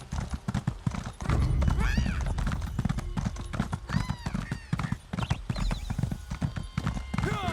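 A horse ridden in Elder Scrolls Online clip-clops along in steady, rhythmic hoofbeats, close and loud, with a couple of whinnies from the horse over the hooves.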